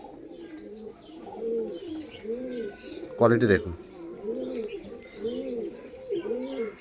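Pigeons in a home loft coo in a steady repeating rhythm, several birds close by, with a brief louder flutter or call midway and someone speaking over them.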